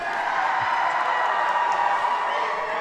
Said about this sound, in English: Now they're stomping the bleachers.